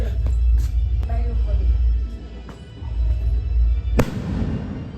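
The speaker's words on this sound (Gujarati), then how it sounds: "ઓલી બાજુ જોઈએ અમારા ઘરની ઉપર ફટાકડા ફૂટે છે." Fireworks crackle and pop overhead in a series of sharp bursts, a louder bang near the end, with voices talking underneath.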